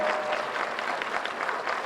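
A crowd applauds campaign staff at a U.S. Senate race concession speech in Florida: steady, dense clapping that holds at an even level from start to finish, with no break and no voices rising above it.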